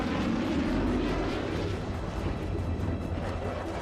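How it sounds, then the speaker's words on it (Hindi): A Eurofighter Typhoon fighter jet rolls out of its hangar at an airbase and takes off at once, giving a steady, loud jet roar that stays broad and constant with no talk over it. "यूरोफाइटर टाइफून हैंगर से बाहर निकलता है और फौरन टेक ऑफ कर जाता है।"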